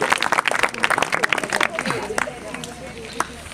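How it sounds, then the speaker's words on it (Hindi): A group of village schoolchildren claps at a nature quiz session in South Chhindwara, with bursts of scattered, uneven clapping that thin out toward the end, with voices and chatter around it. "तालियां बजाया करो भाई, तालियां।"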